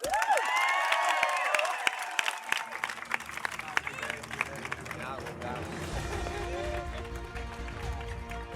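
Graduation ceremony audience applauding and cheering, with dense clapping and whoops under a few shouted voices, loud at first and continuing as a steady roar of applause.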